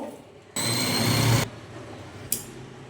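A sewing machine stitches the shoulder seams of a girl's yoke frock in one loud, steady whir of about a second, followed by a brief click after a short pause.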